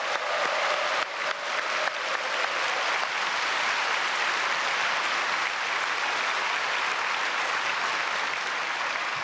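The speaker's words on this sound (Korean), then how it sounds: "우리 크게 한번 박수해 주시면 감사하겠습니다" A church congregation at a Sunday worship service at Myungsung Church applauds loudly and steadily in a large sanctuary, a dense, sustained wash of clapping with no break.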